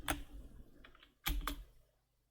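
Ctrl+X is pressed on a computer keyboard to quit a text editor: a few close, crisp key clicks, with a brief double tap in the middle and a soft stroke between them.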